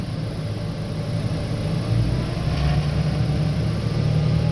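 A Valtra T151 tractor engine runs close by at a steady, even speed, a continuous low rumbling drone with a slight rise in intensity partway through and no talking.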